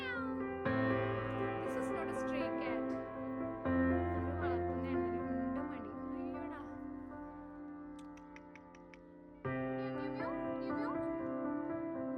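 A stray cat meows repeatedly on a European street, several long, drawn-out close calls separated by short pauses, with a person's voice mixed in at moments.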